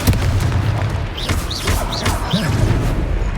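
A Confringo fire spell bursts in Hogwarts Legacy amid dense game combat noise, with heavy booming thuds and a steady rumbling wash, while whooshing chirps of spell effects sweep across the scene.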